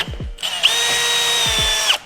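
A power drill bores through metal at low speed under heavy pressure on a car, a loud, close, steady whining drone lasting over a second, framed by brief motor spin-up and wind-down.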